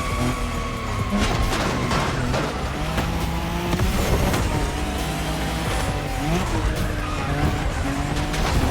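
Drift car skidding through a run in The Crew Motorfest, with tires squealing in long sweeps over a steady engine drone and gear changes, loud and continuous for the full stretch.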